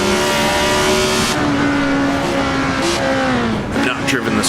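A Tyrrell 002 race car in Assetto Corsa screams at high revs with steady tonal engine harmonics, shifting and dipping near the end with brief tire noise, while someone talks over it.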